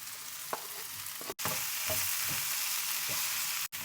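Mushrooms, onions and garlic sautéing in a pan for a creamy chicken soup, a soft steady sizzle with occasional stirring clacks and a couple of brief dropouts, no talk.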